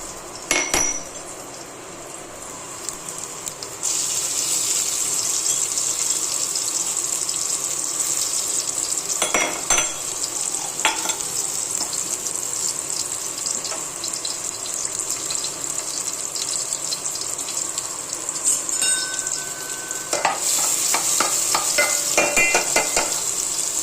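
Lightly crushed garlic cloves frying in oil in a pan for a vegetable bhaji, with a steady loud sizzle and occasional scrapes and knocks of a spoon stirring against the metal, close and continuous.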